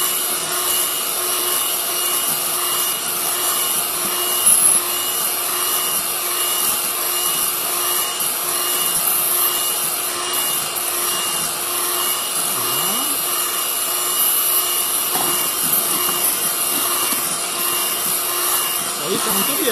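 A small electric hand beater whips a mixture for lamala, giving off a steady, continuous motor whir with a rough scraping texture that holds close and even throughout.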